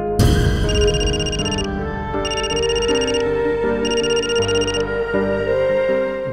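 A telephone rings with a repeating electronic trill in steady bursts, loud and close, over a background of other sound.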